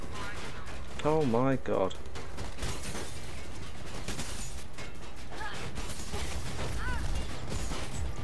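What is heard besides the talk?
gunfire shooting at the player in the video game Mirror's Edge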